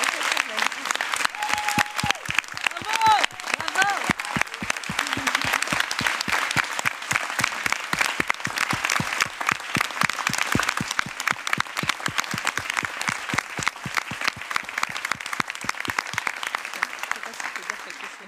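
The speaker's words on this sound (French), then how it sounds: "je voudrais qu'on applaudisse Mariana Otero." Audience applauds after a film screening, steady and dense clapping sustained for about eighteen seconds, moderately loud and filling the room, with a voice calling out briefly near the start.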